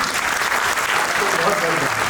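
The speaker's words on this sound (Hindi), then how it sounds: "आप लोगों के लिए बड़ी तालियां बनती थी" Audience applause at the inauguration of a two-day national political science seminar, a dense, continuous patter of many hands clapping at moderate volume, with a voice faintly speaking beneath it.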